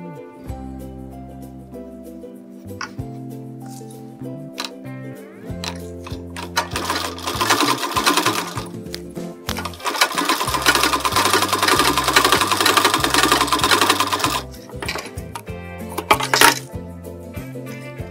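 Sewing machine stitching a blouse hem, running in bursts of varying length with short pauses between, fairly loud and steady during each run, with no talk over it.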